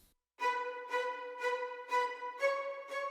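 A string section part in an Asian bedroom R&B arrangement plays a sustained chord that swells in gentle, regular pulses, clear and alone after a brief silence at the start.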